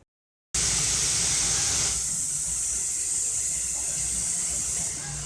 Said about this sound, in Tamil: மூணு விசில் வந்துச்சு.